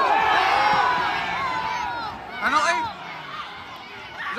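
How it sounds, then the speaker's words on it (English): A football crowd at a Wrexham AFC match cheers and shouts loudly, a dense stadium roar with whoops that rises again briefly midway. "There's more cheering for a yellow card than there was a goal."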